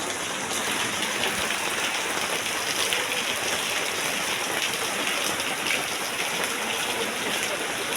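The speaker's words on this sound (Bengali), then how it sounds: "প্রচুর বৃষ্টি," Heavy rain pours down in a dense, steady roar of drops hitting surfaces, loud and constant throughout with no voices over it.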